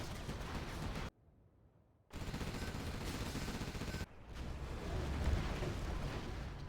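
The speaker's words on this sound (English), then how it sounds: "Got artillery coming across the map from SiZe now" Artillery fire in C&C Generals Zero Hour during a competitive 1v1 match: dense, continuous rumbling blasts and impacts, loud and sustained, with one brief near-silent gap and a slightly thinner stretch.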